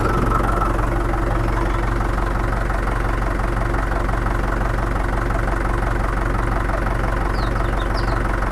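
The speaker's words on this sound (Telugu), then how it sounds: "ట్రాలీ హైడ్రాలిక్ కండిషన్ చూద్దాం ఒకసారి." A tractor engine idles to run the hydraulic system of a long heavy metal trolley, a steady low throbbing rumble with a rapid regular chug, close and constant without talk.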